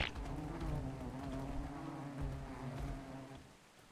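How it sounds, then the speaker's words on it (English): Buzzing bee flying near a bear-feeding spot outdoors, a steady droning hum lasting several seconds, fairly close and moderately loud, with no talking over it. "That was a bee."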